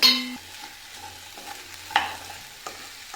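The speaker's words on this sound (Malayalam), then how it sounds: "ഇതിലേക്ക് ഞാനൊരു മൂന്ന് പച്ചമുളക് കീറിയതുകൂടെ ചേർത്ത് കൊടുക്കുകയാണ് നന്നായിട്ടൊന്ന് വഴക്കാം" Three slit green chillies sautéing in a pan for a Kerala-style stew, with a low sizzle and several sharp clinks and scrapes of a spoon against the metal.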